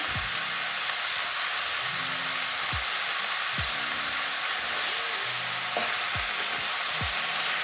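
Green chilies frying with onions in a pan, a steady loud sizzle with repeated scraping strokes of a spatula stirring, no talk.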